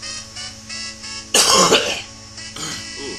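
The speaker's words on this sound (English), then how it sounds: "coughed up something nasty" A single loud burst of coughing and throat clearing, close to the mic, sounding over quiet game music in the background, with a smaller rough throat sound following a second later.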